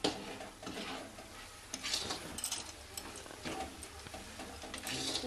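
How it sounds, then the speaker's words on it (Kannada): Spice powder frying in oil in a pan gives a steady, moderately quiet sizzle, with scraping stir strokes and light clicks of utensil against pan throughout. "ಅದು ಎಣ್ಣೆಲಿ ಸ್ವಲ್ಪ ಫ್ರೈ ಆಗ್ತದೆ."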